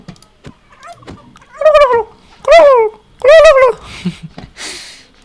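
A voice imitates a turkey gobbling, letting out three loud, warbling gobble bursts in a row, with a few short vocal noises and breathy sounds around them.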